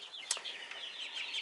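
Young broiler chicks, 18 days old, peep in a busy high-pitched chorus, with a few sharper chirps standing out over the steady cheeping.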